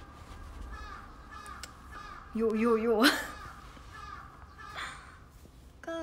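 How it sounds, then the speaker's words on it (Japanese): Crows cawing outdoors, a burst of harsh repeated caws standing out clearly over a background where a person talks. "カラスめっちゃ鳴く。"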